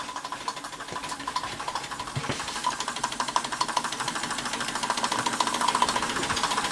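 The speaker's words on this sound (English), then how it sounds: "A modern steam engine powering two rather old accessories." A Stirlingkit Retrol SE-02 model steam engine drives two old accessories, producing a fast, steady mechanical chatter and faint rhythmic clicking that runs continuously, quiet and close, with no voices.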